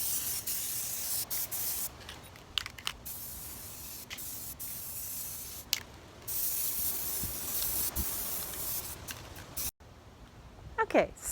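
Spray paint hissing in repeated bursts onto furniture in light coats, short and longer sprays separated by brief pauses, close and steady, with a few quiet pauses between.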